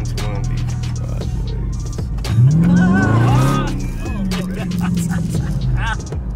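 A Dodge Scat Pack car drives with a deep engine rumble close by. Its revs climb and fall in the middle of the clip, and voices can be heard faintly inside the car.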